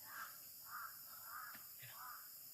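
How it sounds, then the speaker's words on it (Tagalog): A crow caws four times in an even series of harsh calls, moderately distant and clear over a quiet outdoor background. "Uwak naman."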